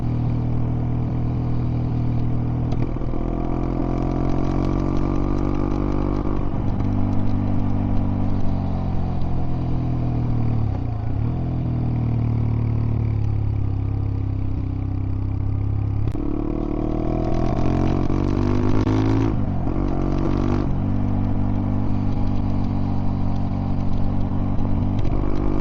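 A Zontes 125 motorcycle engine rises in pitch as it accelerates along an open road, its harmonics climbing steadily and holding strong throughout, loud and close with steady wind and road rumble beneath.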